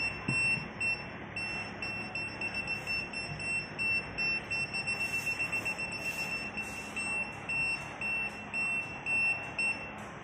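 BSIDE S10 digital multimeter in non-contact voltage tester mode beeping near a live wire, a steady train of short high electronic beeps that speeds up partway, faint over background hiss.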